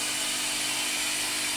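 Electric mixer churning dough in a home kitchen, a steady, close, bright whirring hum running without break and with no talking.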